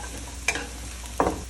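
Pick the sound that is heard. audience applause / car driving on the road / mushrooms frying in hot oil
mushrooms frying in hot oil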